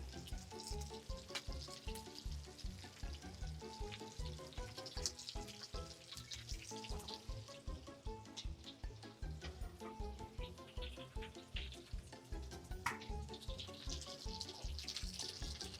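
Shrimp fry crisply in hot oil with a steady, dense sizzle and occasional crackles and pops, quiet but continuous, with no voices.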